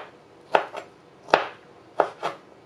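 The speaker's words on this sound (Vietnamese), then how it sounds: "Khi mình cắt mỡ nghe nó sực sực đó" A knife chops through pork fat, cutting it into roughly 1 cm pieces on a board: four crisp, crunchy cuts in two uneven pairs, close and fairly quiet, with no talking.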